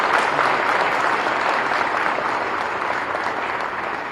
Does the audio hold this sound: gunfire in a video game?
no